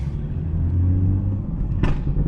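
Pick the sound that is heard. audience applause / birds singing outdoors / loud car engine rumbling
loud car engine rumbling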